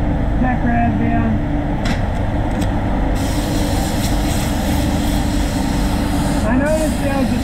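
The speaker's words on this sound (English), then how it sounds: "Now we're going to get the high pressure air blower" A high pressure air blower runs through a Tesla Model X spray painting job, giving a loud, steady hiss that fills the whole stretch. Faint voices briefly rise above it.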